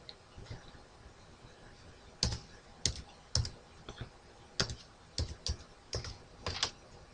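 Keys clacking on a computer keyboard as a user ID and password are entered, a close, irregular run of sharp clicks in short bursts with brief pauses between.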